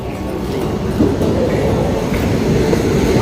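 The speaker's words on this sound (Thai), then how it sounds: "รถไฟมาแล้วครับ" A train pulls into Uttaradit railway station in Thailand, a loud steady low rumble of wheels and carriages rolling close by, with no voices over it.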